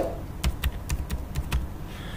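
A password typed on a computer keyboard, about eight quick, close key clicks in an uneven rhythm over a short burst, with no voice.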